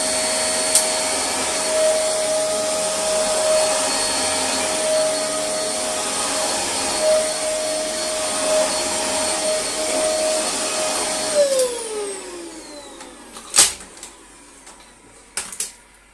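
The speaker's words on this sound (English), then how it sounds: "Let's check if the brush roll turns on." A refurbished Dyson DC24 upright vacuum runs loud and steady with its brush roll spinning on a rug, a constant whine that winds down near the end, followed by a few sharp clicks and knocks.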